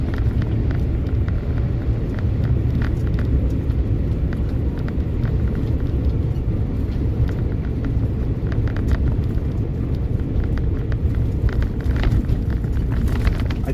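An EV-swapped Geo Metro electric car driving on a road, giving a steady low rumble of tires and road noise with a faint motor whine, continuous and fairly close throughout.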